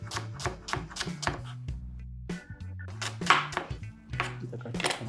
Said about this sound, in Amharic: ሽንኩርት በስላይስ ከትፈን እንደዚህ አድርገን